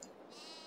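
A single short sheep bleat from livestock on a farm in Farming Simulator 22, heard alone at a faint, distant level.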